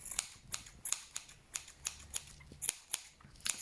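Scissors trimming loose tails on a wool pom-pom, a series of quiet, crisp snips at an uneven rhythm, about a dozen close cuts in quick succession.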